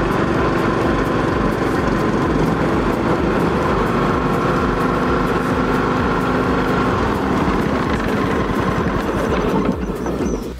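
Loud, steady drone of a Cummins diesel with a P7100 governor holding RPM while driving mower blades under load, a dense chugging roar that drops off slightly near the end.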